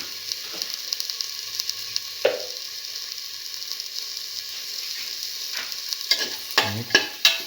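Coriander powder is stirred into potatoes and French beans frying in a pan; a constant loud sizzle runs throughout, with a few spoon scrapes and a louder cluster of clanking strokes at the end.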